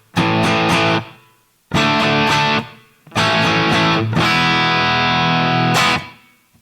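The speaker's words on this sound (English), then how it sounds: "there's not much modulation or delay or reverb on that sound, so it's mostly just drive" Electric guitar through the drive setting of a Flamma FX100 multi-effects unit, with little modulation, delay or reverb: loud distorted chords struck in three bursts, each ringing out and then cut off, with no talk.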